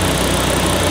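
An Audi RS2 engine idles with slight, occasional misfires, giving a steady, close, continuous rumble with no voices.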